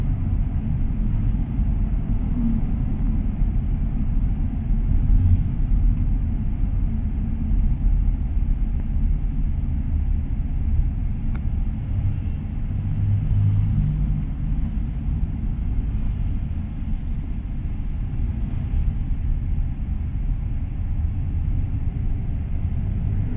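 Steady low road-traffic rumble on a street in Novaliches, Philippines, a continuous dense drone of passing cars and engines from mid-distance, with no voices.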